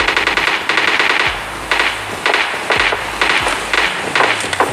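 Rapid bursts of automatic gunfire in the battle royale game PUBG crack out in several separate volleys, loud and close, with short gaps between them.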